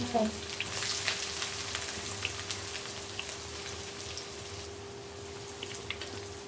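Onions sizzle steadily in plenty of hot oil for a chicken biryani beresta, a dense, even crackle that is close and continuous throughout, with a faint steady hum beneath.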